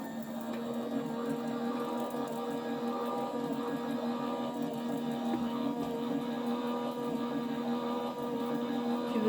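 A Gemini A4 die-cutting machine running, a steady mechanical hum and whir with no break, heard fairly close and fairly quiet.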